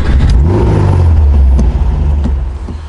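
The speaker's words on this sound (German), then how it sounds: "Ja, Auto läuft." A Porsche 356 engine idles steadily right after being started with help from an electric fuel pump, a close, loud low rumble that eases slightly toward the end.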